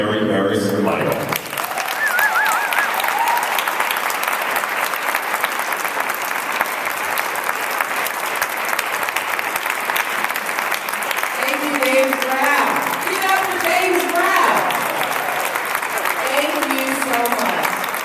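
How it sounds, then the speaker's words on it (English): An audience at an MLK All Peoples Breakfast breaks into sustained applause, loud and dense for many seconds, with a voice speaking over the clapping near the end. "big round of applause for Rosemary Harris-Lytle"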